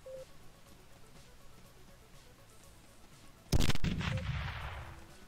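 A burst of video game gunfire in Teleglitch, shooting at armor, hits loud and sudden after a quiet low hum, then a broad noisy wash rings out and slowly fades.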